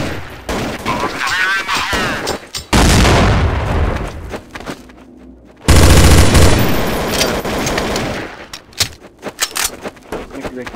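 Counter-Strike: Source gunfire in bursts and rapid volleys, loud and close, broken by sudden quiet gaps, with players talking between shots.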